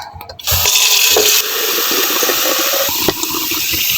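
Water pours from a tap into a teapot to make Turkish tea, a loud, close, steady rushing gush that starts abruptly and runs unbroken, with no speech.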